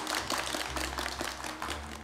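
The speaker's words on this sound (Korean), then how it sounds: "큰 박수 부탁합니다" Audience applause at a Thursday traditional Korean music concert held at Bongeunsa temple, a steady, fairly faint wash of many hands clapping with no voices over it.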